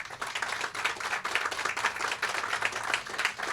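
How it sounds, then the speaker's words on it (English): An outdoor crowd at a groundbreaking ceremony for a town center and Walmart Supercenter gives a steady round of applause, many hands clapping evenly at moderate distance with no talking. "I'd like to give them a big round of applause for it."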